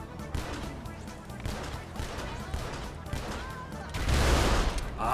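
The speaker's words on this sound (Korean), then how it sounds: "헤비 리볼버 마크2는 차를 거의 한 방에 그냥 부수거든요" Heavy Revolver Mk II shots in GTA 5 fired at a civilian car, a string of sharp gunfire bursts with clatter, swelling into a louder, denser blast near the end.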